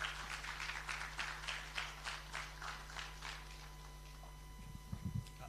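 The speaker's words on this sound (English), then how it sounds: "Ladies and gentlemen, a round of applause for Shamsuddin Fashola." A business event audience applauds as a retail banking head takes the stage, with rhythmic clapping at a moderate distance that fades, then a low voice begins near the end.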